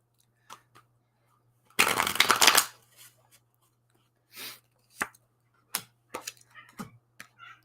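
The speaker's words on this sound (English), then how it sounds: "I'm shuffling my cards" Playing cards are shuffled in one loud riffling burst, followed by scattered short taps and clicks of handled cards against a quiet background with a low steady hum.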